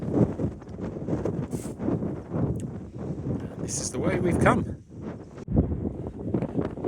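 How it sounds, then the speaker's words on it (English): Steady wind gusts buffet the microphone across open moorland on the Pennine Way while someone talks over the blustery rush. "Very windy"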